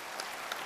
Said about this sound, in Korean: 우리 회장님께 박수 한번 주셔.